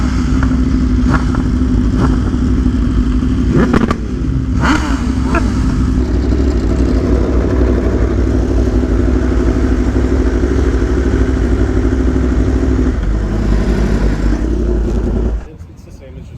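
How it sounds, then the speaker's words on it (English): Idling superbikes, an Aprilia Tuono V4 Factory, Yamaha R1, BMW S1000RR and M1000RR, rumble loudly and close with steady exhaust drone and occasional blips, a voice talking over them before the engine noise cuts off near the end. "Superbike exhaust."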